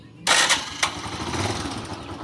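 A TMX 125 Alpha motorcycle engine, just after carburetor tuning, revs sharply twice at close range, then settles into a rough, throbbing idle.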